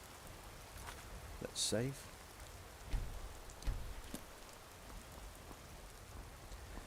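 Steady rain hisses across the Skyrim landscape as a soft, even wash with occasional pattering drops, a short spoken remark over it and a brief chirp near the start.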